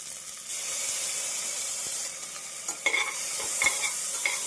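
Ginger-garlic paste frying with onions for tomato biryani, a continuous close sizzle that grows busier midway with several quick stirring scrapes and clatters, and no voices.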